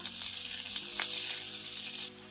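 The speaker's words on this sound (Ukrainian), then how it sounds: "Викладаємо котлети на розігріту сковороду і смажимо з двох сторін" Steady, loud sizzling of chicken cutlets frying in hot oil and butter in a pan, a continuous close crackle that drops slightly at the end.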